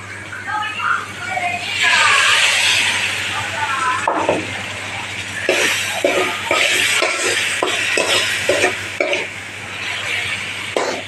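Spice masala stir-frying in a pan with a little water added, for a chicken leg curry: a broad wet sizzle with a run of spoon scrapes and stirring strokes, close up and fairly loud, with talk over it.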